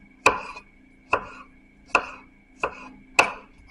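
A knife chops an onion on a cutting board in five crisp, evenly spaced thuds about two-thirds of a second apart, close and clear against a faint steady hum.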